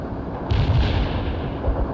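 Artillery shells in the World in Conflict strategy game land in a heavy, rumbling barrage, a dense roaring burst that swells and rolls on without a break.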